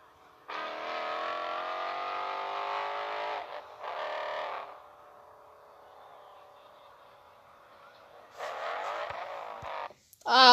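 A powerful car's engine roars in loud, sustained revs, drops to a quieter distant drone, then surges again with another sharp rev at the end.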